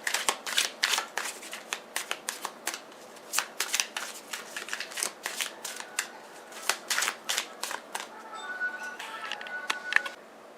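Tarot cards are shuffled and drawn by hand, a rapid series of crisp riffling bursts and flicks in uneven clusters, close and fairly soft, with no talking over them.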